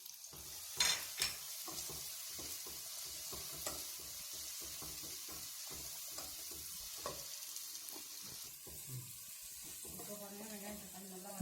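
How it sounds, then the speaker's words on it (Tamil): Curry leaves and coriander sizzle and crackle in hot oil in a pan for mor kuzhambu, with a steady frying hiss broken by repeated scraping stirs and a few sharper pops, close and moderately loud. "இந்த மாதிரி நல்லா ப்ரௌனிஷாக நல்லா வதங்கட்டும்."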